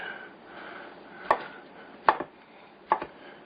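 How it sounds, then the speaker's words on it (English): A knife chops quartered potatoes into pieces on a board, three sharp separate thunks spaced about a second apart over quiet background hiss. "Chop it into good sized pieces this way."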